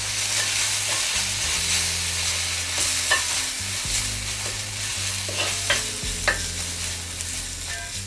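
Tomatoes and red chili powder fry in a pan for a bread masala, a steady sizzle under repeated scraping stirs that come in uneven strokes, close and moderately loud, with no voices.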